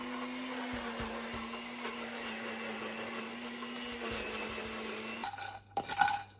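A blender blitzes a marinade of yogurt, a whole lemon and water for thecha paneer, running as a steady, loud motor whir for about five seconds before cutting off with a brief clatter.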